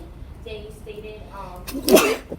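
A single sharp sneeze bursts out loud and close, right after a few spoken words and amid faint background sounds.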